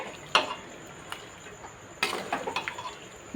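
Chicken rezala spices are stirred in a pan over low gas; faint scraping and metallic clinks of a spoon against the pan come in sparse taps, then a quick cluster near the end, with no voice.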